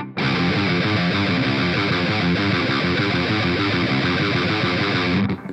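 Heavily distorted electric guitar plays a riff as fast single notes, a dense, loud, continuous run that stops abruptly near the end.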